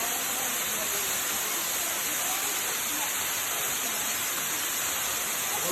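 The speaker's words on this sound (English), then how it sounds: "This is what you're looking at here, the waterfall." Caura waterfall pours in a dense, unbroken roar of rushing water, loud and close, with no other sounds standing out.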